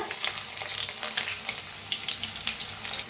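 Chopped onion sizzles in hot oil with crackled mustard seeds and cumin, a steady, close, bright frying hiss that holds evenly throughout with small pops and no talking.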